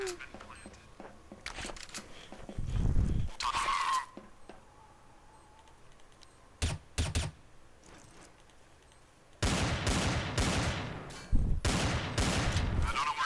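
Rapid bursts of M4 rifle fire in Counter-Strike Source, loud and close, in several clusters with gaps between them, plus a brief burst of talk in the middle.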